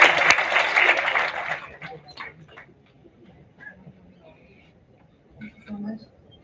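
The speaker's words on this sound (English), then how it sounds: "Let's have a huge round of applause for Ms." An audience at an academic conference applauds loudly for about a second and a half, then the clapping stops abruptly, followed by a quiet room with faint rustles and murmurs.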